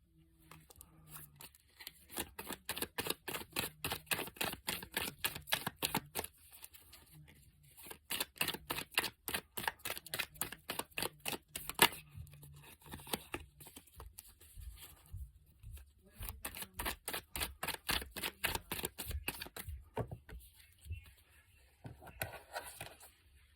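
Tarot cards are shuffled, drawn and laid out in close, crisp bursts of rapid riffling and flicking, with short pauses between handling passages and no talk.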